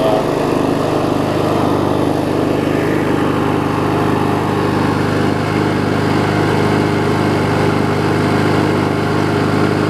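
An older Murray 4 hp push lawn mower engine runs steadily and loudly up close, a continuous droning idle with no pauses throughout.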